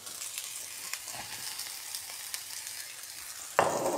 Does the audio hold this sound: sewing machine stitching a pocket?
no